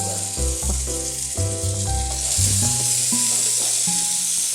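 Bread soaked in milk, sugar and egg sizzles steadily in ghee on a hot dosa pan, a constant close frying hiss with a few soft tonal notes running underneath.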